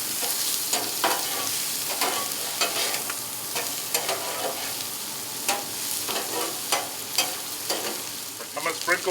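Brussels sprouts sizzle steadily on a hot griddle, a dense, close frying hiss broken by frequent clicks and scrapes as they are stirred, with no talking.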